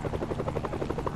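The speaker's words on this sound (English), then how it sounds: "They're stealing a chopper." A helicopter in the Marvel's Spider-Man video game is being stolen, and its rotor chops fast and steadily, loud and close, with no talk over it.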